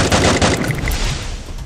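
Rapid pistol gunshots from the video game Free Fire crack out in a dense, loud volley that fades slightly over the short stretch, with no talking.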